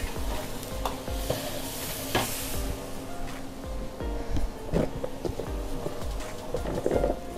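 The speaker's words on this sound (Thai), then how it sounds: "เอาน้ำซุปราดลงไปนิดนึงนะคะ" Soup broth is poured into a hot pan, bringing an ongoing close sizzle with repeated clattering stirring and scraping sounds throughout.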